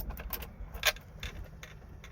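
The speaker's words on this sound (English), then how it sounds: "Click, click, click, click, click. That's fuel pump in the boot." An electric fuel pump in the boot of a Triumph Stag ticks in a run of quick, light mechanical clicks, faint and slightly muffled, with nothing else over it.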